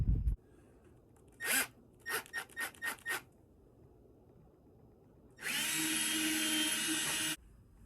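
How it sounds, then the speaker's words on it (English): A power drill pre-drills into a metal lamp base on a standing manzanita log lamp: a short burst, then several quick stuttering pulses, followed by a longer steady, loud high whine lasting about two seconds. "I'm going to pre-drill on the base, on the metal base"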